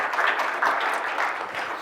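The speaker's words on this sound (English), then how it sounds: "So big round of applause for them for hosting this event." Audience applause at a tech talk on Spark and big data, a dense steady wash of many hands clapping from a crowd, sustained and fairly loud throughout with no distinct individual claps standing out.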